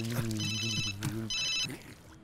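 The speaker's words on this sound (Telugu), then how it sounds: "ఒకవేళ శంకర్ సార్ ఆఫీస్ నుంచి వచ్చిన ఫోన్ అయితే ఎత్తకపోతే అవకాశం మిస్ అవుతుంది" Telephone ringing in a room, two bursts of an electronic trilling ring separated by a short pause, heard over someone speaking in the scene.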